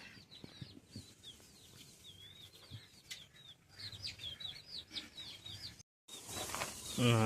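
A young hen clucks and cackles in a rooster's yard after laying an egg, a series of quick, repeated calls at moderate distance, with a brief loud burst near the end.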